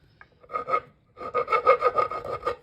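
A rat's tail file rounds the edge of a wooden chopping board in two close, loud bursts of quick rhythmic rasping strokes, a short one and then a longer run.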